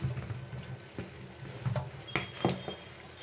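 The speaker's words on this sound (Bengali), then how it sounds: "মশলাগুলো ধুয়ে নিব এখন।" Tap water runs as spices are rinsed in a kitchen sink while tomato sauce is being prepared, with light clatter and splashing from handling rising and falling over a few seconds.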